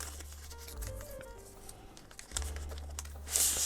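A plastic bag holding a DJI Mini 5 Pro accessory crinkles and rustles as it is handled and torn open, quiet and close, with a louder tearing burst at the end.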